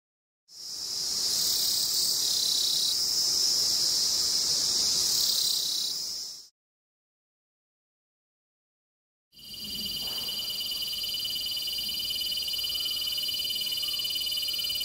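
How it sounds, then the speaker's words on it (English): Two loud, buzzing cicada calls from the Doon Valley and Mussoorie Hills, India, each a sustained shrill drone lasting several seconds, separated by a short silence. "we have documented more than 20 species of cicadas from here in Dun Valley and in Mussoorie Hills"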